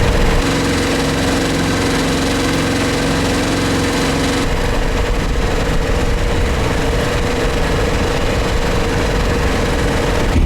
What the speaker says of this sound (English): Right now we're only motoring.